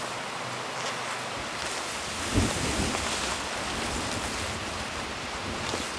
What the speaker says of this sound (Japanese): 今日ちょうど風が結構強く吹いているので